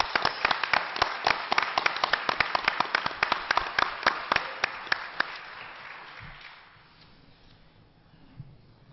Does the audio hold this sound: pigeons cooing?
no